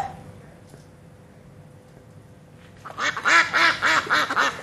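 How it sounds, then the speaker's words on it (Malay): A duck quacks in a quick series of loud, nasal calls, starting abruptly after a quiet stretch of faint background noise. "tepat sekali bunyi itik"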